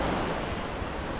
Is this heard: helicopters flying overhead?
no